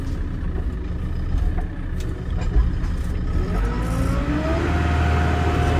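A tractor engine revs steadily while its front loader lifts, a loud, continuous mechanical drone whose pitch climbs in the second half as the revs build.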